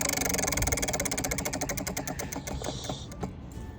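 A large prize wheel is given a big spin, its pointer clicking rapidly across the pegs and gradually slowing over a few seconds, loud and close with a steady mechanical rattle underneath.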